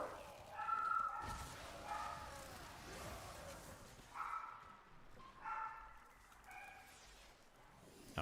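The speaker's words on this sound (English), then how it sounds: "sorry about my dogs barking" Several dogs bark and yip indoors in short bursts at intervals, fairly faint and in the background.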